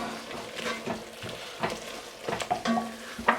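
Flour being stirred into a roux in a pot for Hungarian mushroom soup: quiet sizzling under repeated scraping strokes and a few light knocks of a utensil against the pot.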